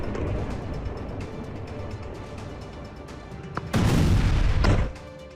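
Artillery fire in the Russia-Ukraine war, a rumbling sequence of distant booms and thuds over a noisy background, with a louder, heavier blast burst near the end before fading.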